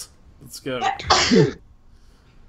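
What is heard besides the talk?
sneeze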